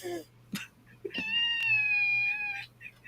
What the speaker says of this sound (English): We're gonna have the sweet sounds of kitten meows for the rest of the live stream